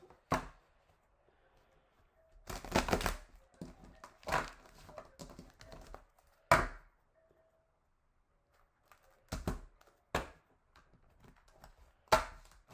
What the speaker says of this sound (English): now I will shuffle